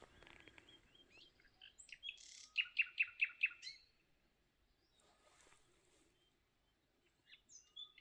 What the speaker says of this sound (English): Oh, let's listen to the birds waking up.